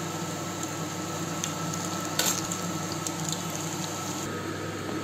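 Sweetcorn vadas frying in hot oil, a steady close sizzle with faint bubbling and an occasional soft clink, no talking.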